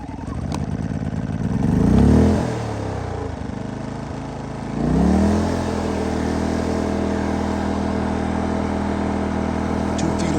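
A Powersmart 2500 gas generator's small engine is pulled to start twice, each pull rising and falling, then catches and runs at a steady loud drone close by.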